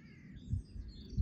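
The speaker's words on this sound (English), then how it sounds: "it's a gorgeous morning, the birds are going for it" Birds chirp faintly in the distance on a farm with sheep on a wet, rainy morning, a few soft calls over low outdoor rumble.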